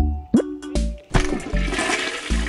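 A toilet flushes in a school restroom, a loud close rush of water that starts abruptly and churns steadily, with a few short clunks and squeaks at the beginning.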